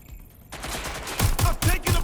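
Video game gunfire from suspects opening fire, a quick burst of four or five sharp shots in even rhythm, loud and close after a short stretch of lower noise.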